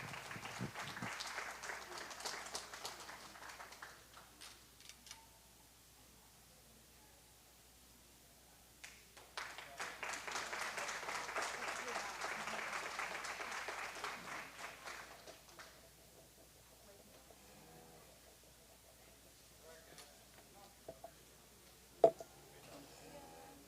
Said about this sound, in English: Let's give them all another round of applause